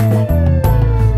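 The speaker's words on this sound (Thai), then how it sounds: "เฮ้ยรถดับเพลิงกำลังรีบไปไหนล่ะครับเนี่ย" A cartoon fire truck siren blares loud and close in a children's animation, a wailing electronic tone broken by a short gap before sounding again.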